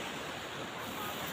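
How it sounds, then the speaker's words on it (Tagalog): Calm sea surf washing steadily on the shore, a continuous broad wash of water with faint wind, fairly even and close, with no voices. "Ang kalma po ng dagat oh."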